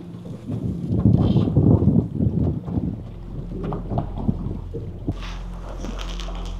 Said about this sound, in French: Il y a trop de vent quand même.